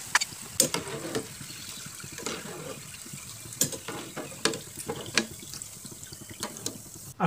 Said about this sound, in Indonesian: kita goreng